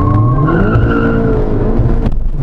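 A Skoda Octavia tuned to 300 hp launches hard from a standstill, its engine roaring loud and close with a rising tone while the tires squeal continuously throughout.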